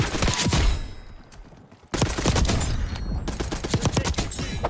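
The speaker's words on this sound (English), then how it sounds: "Enemy marksman shooting." Rapid gunfire from an enemy marksman rifle in the video game Black Ops 6, firing in two bursts of sharp cracking shots separated by a brief lull, loud and close with no voices.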